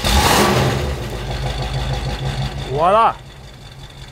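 A Chrysler Imperial convertible's 413 V8 cranks and catches, a loud engine note filling the opening seconds before settling into a steady idle, with a person speaking briefly over it near the end.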